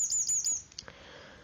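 A wren singing from a tree, a rapid high, bright chirping trill of several quick bursts in the first half, close and clear, then fading into faint background.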